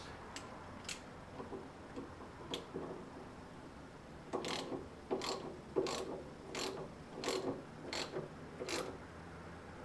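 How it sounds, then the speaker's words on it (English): A ratchet wrench clicks in quick bursts while tightening bolts on the hinge brackets of a Jeep Wrangler JK upgraded tire carrier, a few soft clicks first, then a steady run of louder close ratcheting strokes. "We will fully tighten the outside hinge brackets."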